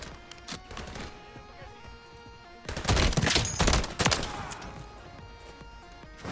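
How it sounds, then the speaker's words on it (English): Video game gunfire aimed at the player, with scattered sharp shots followed by a loud, dense volley in the middle and then sparser pops trailing off. "Someone new is shooting at me."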